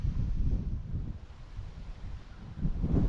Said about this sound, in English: I get it, it's crazy windy.